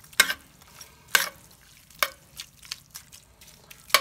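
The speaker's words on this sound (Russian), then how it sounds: "Все готовится, все жарится." Seafood and pasta ingredients sizzle and crackle steadily in a hot pan, with a few sharp scraping stirs cutting through.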